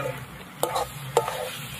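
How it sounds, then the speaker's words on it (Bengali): Mixed vegetables for a Bengali ghonto fry in a pan under a soft continuous sizzle, with two sharp scraping stirs of a spatula about half a second apart. "একটু ভালো করে এরকম ভেজে দেবো"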